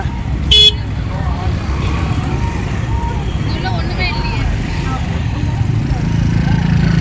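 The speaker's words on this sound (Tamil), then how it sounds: "நைட்டு பன்னெண்டு மணிக்கு எவ்வளோ டிராஃபிக் பாருங்கள்" Busy late-night traffic on a crowded weekend food street in Anna Nagar, Chennai, a steady hum of passing vehicles with a brief horn toot early on and the murmur of the crowd throughout.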